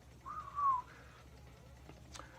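A short, faint whistled note that slides and wavers, followed by quiet background hiss and a brief high chirp near the end.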